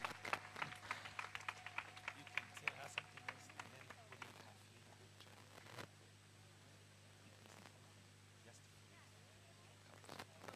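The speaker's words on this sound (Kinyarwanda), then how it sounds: "Let's give them a round of applause." An audience at a wedding gives a round of applause: a scattered patter of clapping that is faint and distant, thinning out after about four seconds into quiet room noise.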